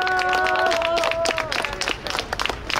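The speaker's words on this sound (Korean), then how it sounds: "박수 쳐주세요" Applause from a street audience at a satirical performance outside Hongik University Station, a crowd of claps filling the clip at steady loudness while a sustained tone sounds briefly over the start.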